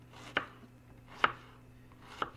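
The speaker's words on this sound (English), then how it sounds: "Chop the onions up." Three sharp, separate knife chops through onions on a cutting board for breakfast burritos, spaced about a second apart, close and crisp in a quiet kitchen.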